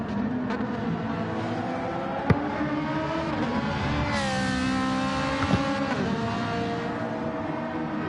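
A Ferrari Group 4 race car in a racing video game screams continuously at high revs, with gear shifts dipping and climbing the engine note and a brief clack or two, loud and close with no talking.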